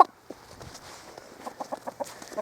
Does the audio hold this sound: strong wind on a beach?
no